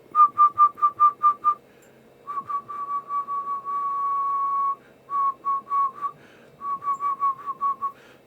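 Someone whistles into a microphone to test a Kenwood TL922A amplifier on SSB. A rapid run of short, even-pitched toots leads into one long sustained note, followed by more quick bursts of whistling, clear and close.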